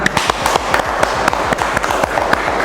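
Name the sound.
class applauding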